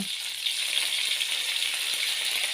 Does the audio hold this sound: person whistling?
no